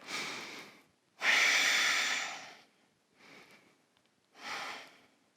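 Slow, deep breaths during a yoga stretch, heard close and alone: a soft inhale, a long loud exhale, then two quieter breaths separated by silence.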